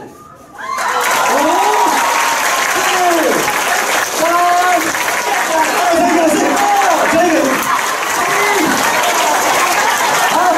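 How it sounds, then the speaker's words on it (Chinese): A school audience at an anti-drug awareness assembly breaks into loud, sustained applause and cheering that fills nearly the whole stretch after a brief quiet start, with scattered voices and shouts mixed into the clapping. "请给吴同学五秒钟的掌声鼓励。"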